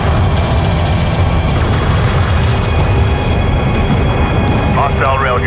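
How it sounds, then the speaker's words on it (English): Hostile railguns fire in the strategy game Homeworld: Deserts of Kharak, a loud, continuous rumble of heavy booms and engine noise. Voices come through partway. "Hostile railguns opened up."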